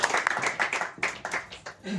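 Brief burst of audience clapping at a Hindi kavi sammelan poetry gathering, welcoming the session's chair, close and dense for about a second and then thinning, heard under a voice.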